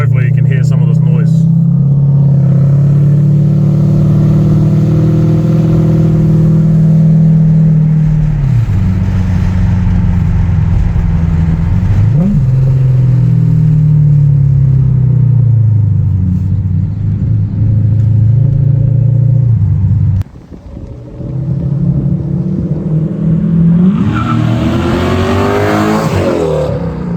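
Toyota Soarer with a 1UZ 4-litre V8 revving hard through an X-pipe exhaust, loud and close, holding steady revs, dipping and climbing again, with a sharp drop near the end before a final rising rev.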